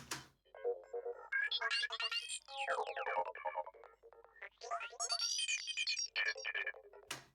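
A bright synthetic pad with shimmering, sweeping tones that rise and fall, swelling in layered waves with no voices, fading in and out at the edges.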